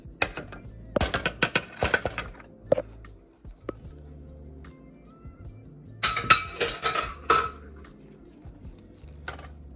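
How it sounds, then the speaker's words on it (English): A vanilla and powdered sugar glaze whisked in a bowl, with bursts of clinking and tapping of utensil against the bowl separated by quieter pauses, close and moderately loud, no speech. "we're going to go in with the powdered sugar, and we're just going to mix until everything is nice and smooth"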